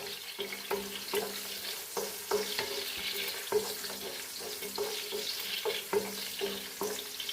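Garlic fries in a pan with spice powders for a bilimbi pickle. A low, steady sizzle sits under regular scraping strokes from stirring, roughly two per second, close and fairly quiet.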